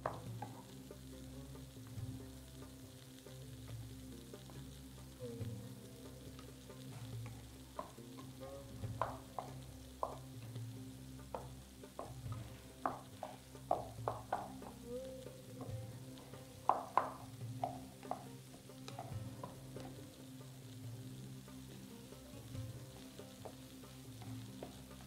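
A ground beef mixture sizzles softly in a pan, with scattered scraping clicks from stirring throughout.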